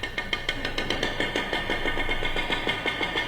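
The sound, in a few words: broom handle imitating two-stroke engine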